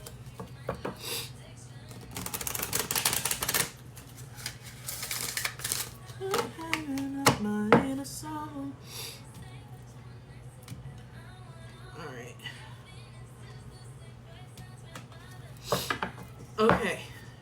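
A tarot deck is shuffled by hand in a few quick papery bursts near the start and end, close up, with someone speaking over and between them.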